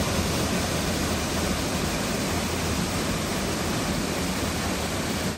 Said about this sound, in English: it's not just water, it's a waterfall.